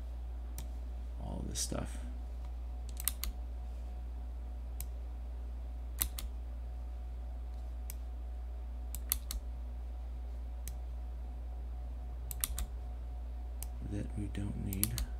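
A computer keyboard and mouse click sparsely during editing of a drawing, the clicks coming singly and in small bursts under a steady low hum. Someone speaks quietly now and then.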